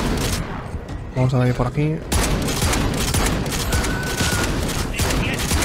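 Gunfire against zombies in Modern Warfare 3 Zombies, a dense, steady run of loud close shots filling the stretch while someone speaks briefly over it.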